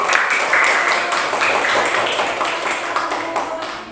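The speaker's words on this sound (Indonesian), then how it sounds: "Berikan tepuk tangan." A class applauds a presenting group, loud continuous clapping from a room of people that slowly eases off in volume over a few seconds.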